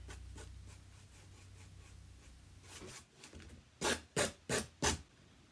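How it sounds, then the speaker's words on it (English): Hand-sanding the edges of a spackled heart: faint scratchy strokes early on, then four loud, evenly spaced rasping sandpaper strokes near the end, close up and with no talking. "Then a quick sanding around the edges to give it a little bit of weathered look to it."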